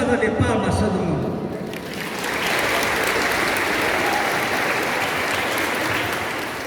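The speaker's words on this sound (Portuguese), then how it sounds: "Merece uma salva de palmas todo mundo." An audience at a community meeting in Forqueta breaks into applause, a speaking voice fading into dense, sustained clapping that fills the room and holds steady to the end.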